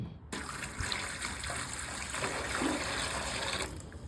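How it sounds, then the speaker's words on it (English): Water pours steadily into an aluminum boat hull during a leak test, a close, continuous trickling and splashing lasting several seconds. "Pour some water in there."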